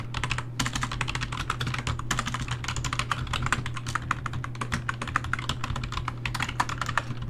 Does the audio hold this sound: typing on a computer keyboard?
yes